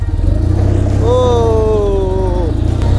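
A 1966 BMW R60/2 motorcycle with sidecar, a roughly 30-horsepower boxer twin, runs steadily up close with a loud low rumble, and its pitch rises briefly as the throttle opens midway.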